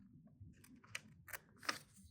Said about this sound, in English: and I'm going to cut right along this little semicircle like that